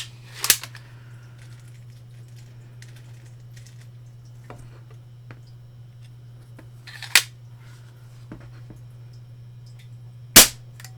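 A small Diana 15 spring air pistol fires three separate sharp cracks, spaced several seconds apart, against a low steady hum with faint clicks between shots.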